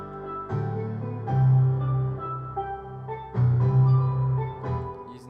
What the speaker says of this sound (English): I then added steel pans